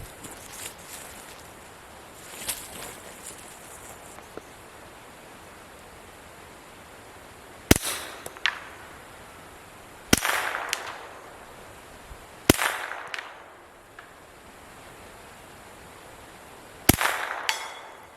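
Four sharp, suppressed 9mm reports from a Keltec Sub CQB integrally suppressed folding carbine fired at a target 100 yards away, spaced a few seconds apart, each a loud crack with a brief ringing tail, and no voices.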